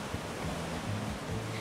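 Ocean waves heard from a seashell in the video game Gorilla Tag, a soft steady rushing surf with a low rolling wash, faint and brief, no voices.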